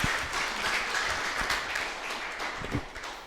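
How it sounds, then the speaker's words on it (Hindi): Audience applause at a one-day neighbourhood youth parliament event, a steady wash of many hands clapping from a crowd throughout, fairly loud and continuous with a few sharper near claps. "एक बार जोरदार ताली इनके लिए"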